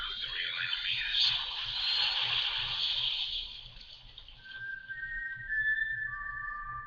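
Someone whistles a short tune, Rue's whistle from Catching Fire, a clear breathy melody that settles into a few sustained notes near the end, alone with faint background hum.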